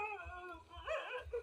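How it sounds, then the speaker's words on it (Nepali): A dog whimpers in a short, thin, wavering whine of a couple of quick rising and falling cries. It is faint and brief over low background rumble. "यहाँको कुकुर चाहिँ बिगराइन्छ"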